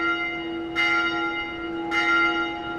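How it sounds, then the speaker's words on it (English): A bell tolls twice in the video game Dark Souls 2, a bright clang about a second apart with long ringing tails over a steady tonal drone. "judging by the fact that the bell's ringing"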